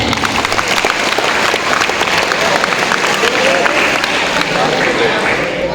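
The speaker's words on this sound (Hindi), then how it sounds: "तो वशिष्ठ के लिए भी एक बार जोरदार तालियां हो जाए।" Loud, sustained applause from a school audience at an Independence Day celebration, honouring a student who gave a statue to the school; dense clapping fills the whole stretch, close, with crowd murmur mixed in.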